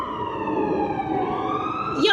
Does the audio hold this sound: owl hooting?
no